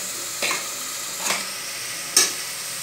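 Green chillies and tomatoes sizzling in a pot while being stirred for a country chicken rasam, a quiet steady fry with three brief scraping strokes of the spoon.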